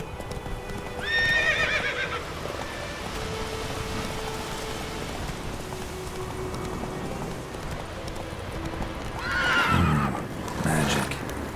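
Horse in Witcher 3 game with rhythmic clip-clop hooves under a steady rain-like wash, bracketed by two loud whinnies, one near the start and another toward the end.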